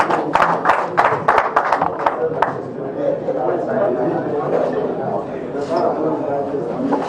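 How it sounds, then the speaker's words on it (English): An audience at a DJs association national conference in Nigeria claps for the national treasurer, with a burst of sharp, separate claps at the start easing into a softer, busier murmur of applause and crowd noise. "A round of applause, please."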